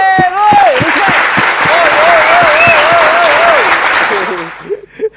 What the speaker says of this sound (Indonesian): tepuk tangan buat Glenn